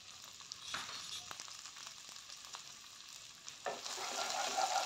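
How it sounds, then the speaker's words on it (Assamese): Tomatoes with salt, turmeric and garam masala fry in a pan for palak paneer, a close, steady sizzle broken by sharp scraping stirs, with the sizzle swelling louder toward the end and no voices. "আৰু বিলাহীখিনি ভালদৰে গলি যোৱালৈকে এতিয়া অকণমান সময় ভাজি থাকিব লাগিব"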